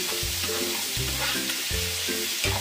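Carrots and peeled broccoli stems stir-fry in a pan, crackling and sizzling close up as repeated stirring strokes scrape through the vegetables in a steady rhythm, with no talking.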